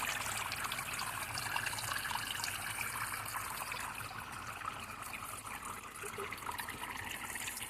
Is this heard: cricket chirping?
no